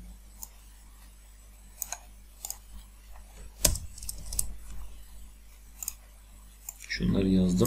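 Someone types on a computer keyboard during a BGP networking lesson, with scattered clicks and short bursts of keystrokes, close up, and a louder jumble of sound at the end.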